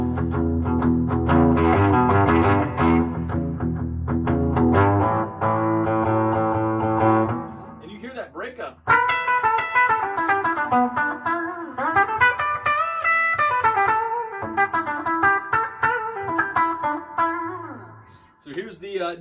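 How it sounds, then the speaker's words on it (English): An electric guitar on its bridge pickup plays chords, then a bright, twangy melodic line with bends, heard up close through an amplifier. "Here is the Rockin' Bridge pickup."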